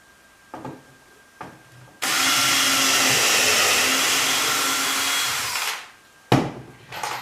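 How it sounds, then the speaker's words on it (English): Power drill driving 2-inch screws into wood while fastening down boards for a storage bench: a steady, loud whirring drive lasting about four seconds, preceded by a couple of short knocks and followed by a brief burst. "Gonna screw them with 2-inch screws."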